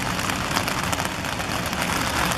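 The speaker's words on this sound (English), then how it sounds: "And then it started raining." Rain begins falling, a dense steady hiss of drops pattering on surfaces outdoors near a nest box, continuous and fairly loud with no voices.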